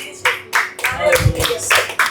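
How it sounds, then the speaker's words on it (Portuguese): A congregation claps in church during a Christmas Eve service, rhythmic, fairly close clapping in regular beats while a voice talks or sings over it. "Você pode aplaudir ao Senhor?"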